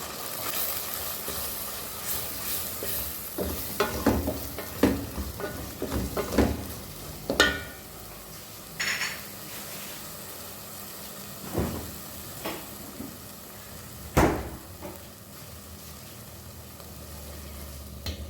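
Masala of onion, tomato, chilli, cinnamon, cloves, curry leaves and pandan leaf sautéed and stirred in a pan, soft continuous sizzle broken by repeated scraping strokes of a spoon, close and fairly quiet.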